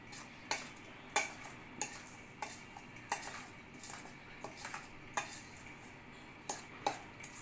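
Cashew-almond powder and cardamom powder being mixed for churma laddu, heard as a steady rhythm of spoon-on-bowl clinks and scrapes, fairly quiet and close, with no voices.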